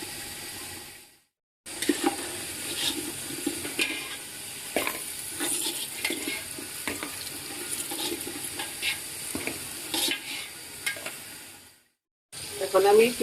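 Onions fry in hot oil until browned and crisp, a continuous close sizzle with crackles and stirring scrapes, broken by short silent gaps near the start and end.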